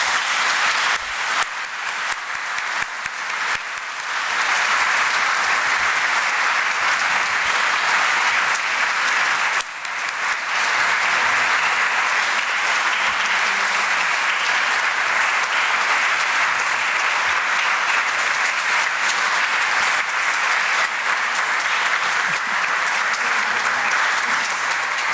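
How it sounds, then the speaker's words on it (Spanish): Sustained audience applause fills a university conference hall at the Universidad de Costa Rica, dense and steady clapping from a large crowd, with a brief lull near the start before continuing strongly for the rest of the stretch. "Les agradezco que compartamos un fuerte aplauso."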